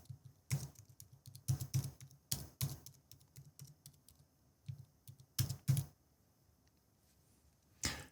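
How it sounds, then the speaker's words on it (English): Keys on a computer keyboard are tapped in short clustered bursts with quiet gaps between, crisp and close-up, as a few letters are typed. "now if I type in a few letters"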